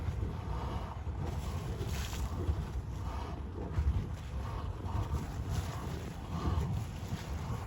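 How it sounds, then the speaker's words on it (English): A Yellowstone geyser gives off a continuous noisy, rasping rush of steam and water, with broadband hiss and low rumble surging slightly over several seconds, heard outdoors with some wind. "this is one of our favorite geysers. I don't know if you can hear, but it's making like a really noisy rasping sound"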